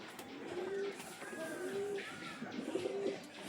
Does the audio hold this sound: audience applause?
no